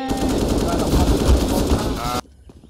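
Automatic gunfire in a Call of Duty Cold War Zombies video game, a loud dense rattling burst lasting about two seconds, then cutting off abruptly to quiet.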